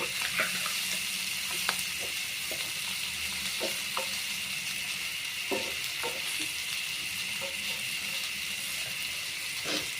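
Rohu fish fry stirred gently in a pan, a continuous loud frying hiss with occasional soft scrapes and clinks from the utensil, close and without talk.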